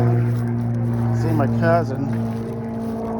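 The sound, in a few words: airplane flying overhead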